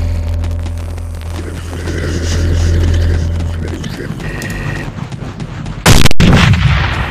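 A nail bomb detonates in the top-down shooter Teleglitch, one sudden loud blast near the end over a droning low rumble and in-game mechanical tones, with a short crackling tail.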